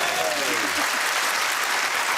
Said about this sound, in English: Very lukewarm round of applause